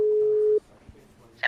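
A telephone line gives one steady tone after a call is hung up, then cuts out; a faint thud and a brief higher chirp follow over low background noise.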